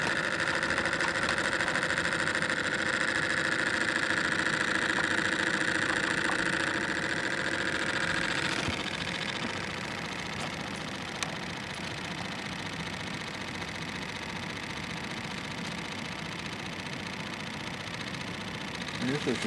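A Bedini North Pole electric motor running steadily gives a continuous mechanical hum with a fast buzzing pulse. The tone drops partway through, and someone talks over it.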